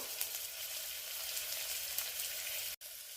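Ridge gourd pieces sizzle in hot oil tempering, a steady close crackling hiss that runs throughout and cuts out for a moment near the end.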